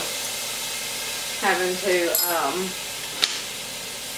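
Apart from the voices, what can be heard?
minced garlic sizzling in a hot pan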